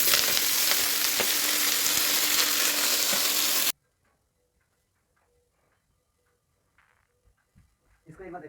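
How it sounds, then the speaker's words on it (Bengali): Drumstick flower fritters (sojne phool bora) fry loudly in hot oil, a dense steady sizzle for several seconds that cuts off abruptly, followed by near silence with faint clicks and a brief rustle near the end. "এখন বড়াগুলো ভেজে নিই তাড়াতাড়ি করে"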